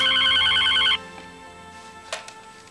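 A telephone rings once with a loud electronic warble that stops abruptly, leaving quiet room tone and a couple of faint knocks, as if the receiver were being lifted.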